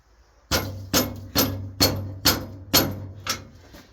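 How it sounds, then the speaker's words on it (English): Hammer tapping on a tractor part, seven sharp metallic knocks at an even pace, close and fairly loud with no talk. "Sometimes a hammer is your friend."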